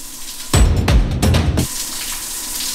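Hot water runs in a shower box, a loud broadband hiss of spray lasting about a second, starting abruptly and cutting off, with quiet room tone around it.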